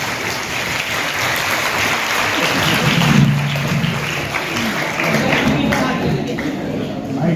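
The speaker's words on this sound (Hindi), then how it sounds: "बोलो जोरदार तालियां हो जाए।" Loud, dense applause from a large audience at a poetry contest event in Aurangabad, a steady wash of clapping lasting several seconds without pause.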